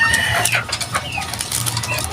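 Backyard chickens cluck in short repeated bursts, fairly close, over a low steady background hum, with no speech.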